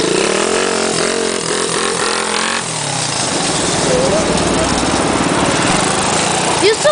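Motorcycle engine on a 2012 motorbike trip in Korgan, running steadily and then changing pitch as the throttle is worked, loud and close throughout, with voices talking over it.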